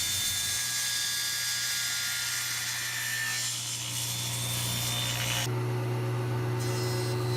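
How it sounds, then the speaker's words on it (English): A table saw with a miter sled cuts Wenge hardwood boards to length, giving a steady motor whine and a harsh, continuous cutting rasp that shifts pitch partway through as the blade clears the board, loud and with no voices. "Using a miter sled, we need to cut those Wenge-ghay boards down to the exact length for the top of the box."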